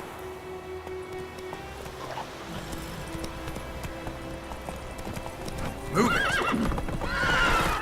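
Roach, a horse in The Witcher 3, gallops with a steady clip-clop of hooves, then lets out a loud whinny near the end while someone shouts over the hoofbeats.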